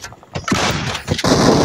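Dense, loud bursts of gunfire in PUBG crackle almost continuously over a couple of seconds, with rumbling blasts mixed in.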